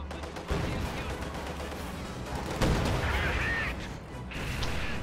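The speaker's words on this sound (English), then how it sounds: "Decides to blow up the T-70 just to be safe, I guess" A T-70 tank is blown up in a WWII strategy video game: heavy explosive blasts, one at the start and a second about two seconds later, over a constant rumble of battlefield gunfire.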